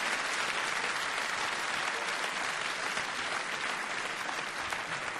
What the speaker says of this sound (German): Also, ich würde noch mal klatschen.